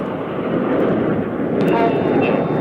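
Display jets at an airshow pull up into a twisting manoeuvre, a steady broad roar of engine noise holding loud and continuous throughout.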